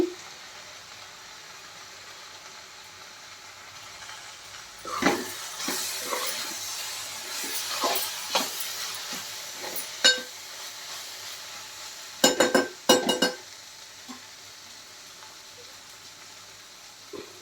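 Cluster bean curry seasoned with chili powder fries over a high flame, with a steady sizzle and bursts of stirring and spoon scrapes against the pan, some sharp clatters near the end.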